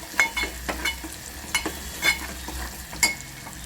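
Masala spices for a pea rice dish roast in a pan with a steady low sizzle, broken by repeated light scrapes and taps from the stirring spoon, close and with no one speaking.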